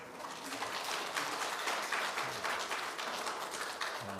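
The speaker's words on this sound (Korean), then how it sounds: "박수 치셔야 돼요." A church congregation applauds elderly special singers, a dense, steady wash of many hands clapping that fills the room at moderate volume for several seconds, with faint murmurs underneath.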